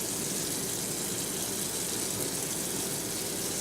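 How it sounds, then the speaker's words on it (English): Warm water runs from a tap into a plugged sink, a steady, soft, even gush of flowing water with no breaks and no voices. "I'm going to turn the water to warm, and I'm going to plug up the sink"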